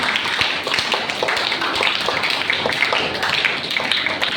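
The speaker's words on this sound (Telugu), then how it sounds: "Big clap." Steady audience applause at a women's day felicitation ceremony, a dense, even patter of many hands clapping continuously throughout without pause.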